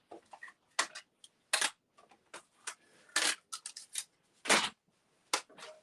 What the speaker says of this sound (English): I'll bring in my mini cut and emboss.